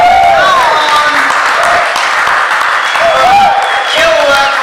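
A crowd applauding and cheering at an RC drift car competition, steady loud clapping and shouts filling the space while an announcer talks over it through a PA.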